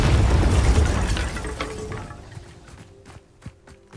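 Bombarda spell blast in Hogwarts Legacy: a loud booming explosion with crumbling debris that decays over about two seconds, followed by scattered small cracks and pops.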